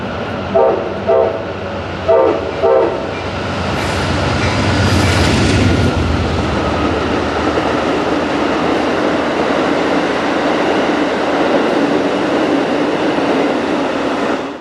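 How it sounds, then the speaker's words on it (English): A few short horn blasts sound, then Amtrak's Pennsylvanian passenger train rumbles past loud and close through a mountain cut at Cassandra, Pennsylvania, wheels clattering steadily over the rails for several seconds. "here comes our next train, which is Amtrak 42, the Pennsylvanian."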